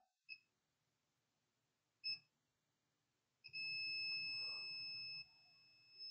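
A multimeter's continuity beeper chirps twice in short bursts, then sounds one long steady tone while probes test coils on a laptop motherboard, all in a quiet room.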